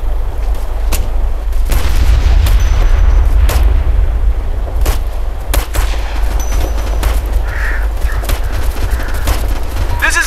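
Gunfire in Operation Flashpoint Red River combat: repeated sharp shots and distant booms over a constant loud low rumble of battle, with intermittent radio-style voices.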